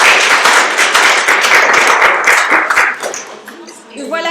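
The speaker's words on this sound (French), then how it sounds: "Joiret, Anna Ayanoglou et Véronique Roulans, que je vous demande d'applaudir très fort ce soir." An audience at a francophone poetry evening applauds loudly and densely for several seconds. The clapping then thins out as a voice begins speaking.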